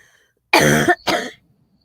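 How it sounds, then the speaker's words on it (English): Two harsh coughs in quick succession, close and loud, against near silence. "sorry, I can't stop coughing"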